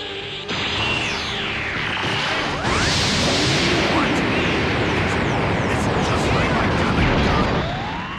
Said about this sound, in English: There's absolutely no way you can stop my Gallic gun.